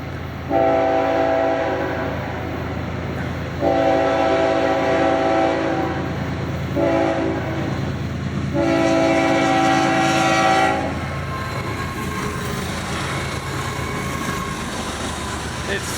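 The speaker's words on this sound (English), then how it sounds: "So let's see if this is a rock train." A rock freight train rolls past at night, its horn sounding in three long, loud blasts over a steady rumble of the cars, with quiet stretches between blasts and the horn dropping away near the end.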